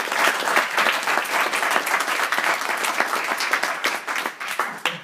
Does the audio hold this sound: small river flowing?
no